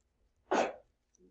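A single short sneeze in a lecture room, one brief burst of moderate loudness against quiet room background.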